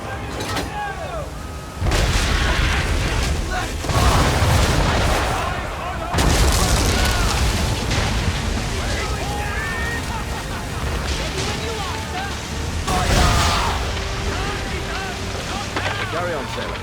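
Heavy ship cannon fire during an Assassin's Creed 3 naval battle, several booming blasts spaced apart amid wind and sea noise, with voices shouting orders over it.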